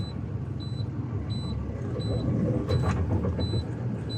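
A truck engine idling under gentle throttle while the emergency brakes hold, giving a steady low rumble, with a faint repeating electronic beep over it and a brief rattle near the end.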